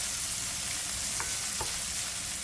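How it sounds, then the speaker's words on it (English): Shrimp seasoned with jerk and all-purpose seasoning sautés in a hot pan, giving a steady, close sizzle, with a couple of soft utensil clicks against the pan partway through. "So we just allow that to saute."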